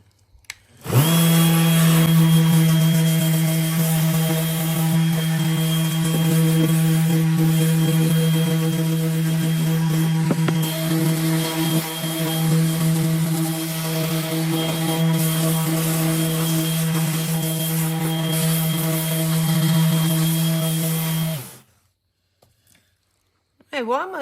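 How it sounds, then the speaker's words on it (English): A power sander works over a wooden serving tray coated in epoxy resin, a loud, steady motorized whir with a constant hum that runs for about twenty seconds and then cuts off abruptly. "I'm going to keep sanding."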